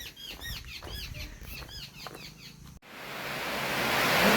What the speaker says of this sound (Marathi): या ठिकाणी प्रचंड मोठा पाऊस चालू झालेला आहे